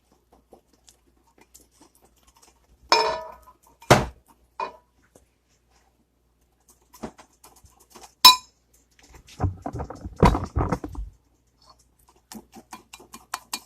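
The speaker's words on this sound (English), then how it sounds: "we'll whisk that together" A whisk or utensil works a small canola oil mixture in a bowl, giving scattered light clinks and scraping bursts that come in irregular clusters and leave quiet gaps between them.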